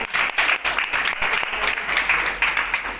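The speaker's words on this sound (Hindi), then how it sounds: "एक जबरदस्त तालियां महान कंपनी डॉल्फिन ट्रेवल्स के लिए।" A crowd of many people claps for the Dolphin Travels company at a large gathering, a sustained wash of dense applause that swells and holds throughout.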